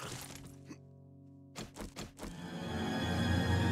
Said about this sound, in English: the ceiling totally caves in right here